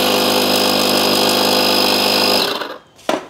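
VEVOR electric air compressor running with a loud, steady motor drone and hum that cuts off abruptly near the end, followed by a brief quiet and a short clunk.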